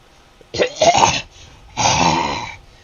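A voice imitates a monster's cough with two harsh, throaty, mucus-laden hacking bursts, loud and close, separated by a short pause.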